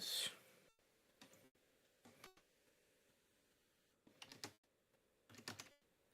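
Short, close bursts of tapping on a computer keyboard, clustered keystrokes separated by pauses, fairly quiet, with no speech over them.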